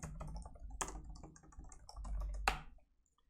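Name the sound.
typing on a computer keyboard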